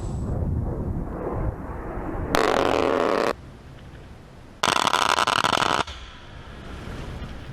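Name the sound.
30mm GAU-8 Avenger Gatling gun firing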